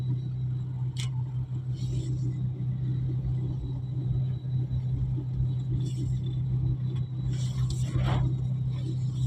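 Steady low engine rumble of a car pulling away slowly in first gear, with a few faint scrapes and clicks over the constant drone.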